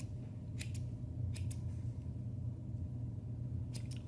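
Scissors trimming thick sheepskin wool for a leather ornament: a few crisp, sharp snips in quick pairs, spaced apart over a low steady background rumble, with no talk.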